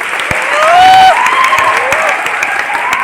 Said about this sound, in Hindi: अगेन एक बार सर के लिए जबरदस्त ताली